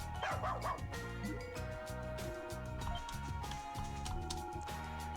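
A dog in the video game Ys Celceta barks and yips repeatedly in short, bouncy bursts over steady background music.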